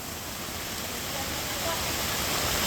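Heavy rain pours down on Marar Road in Thrissur while road tarring work goes on, a dense, steady hiss of rainfall that fills the whole stretch and swells slightly louder toward the end.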